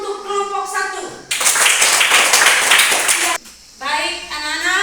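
Schoolchildren in a classroom clap together for discussion group 1, a burst of about two seconds of dense clapping with a teacher's speech before and after.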